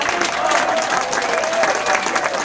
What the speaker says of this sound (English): we'd like to give a round of applause to Laura for getting it all together